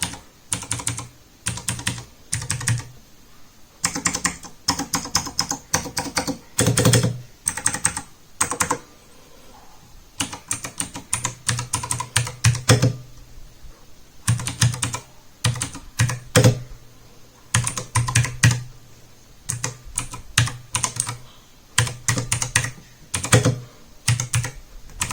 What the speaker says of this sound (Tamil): ஓகே, இப்போ நம்ம வந்து கீஸோட சவுண்ட் எப்படி இருக்குன்னு பார்க்கலாம்.